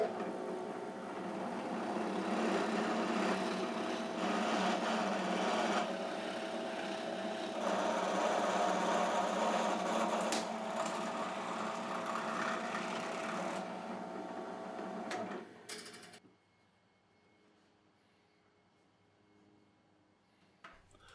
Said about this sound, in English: Using a smaller drill bit, I'm going to drill a pilot hole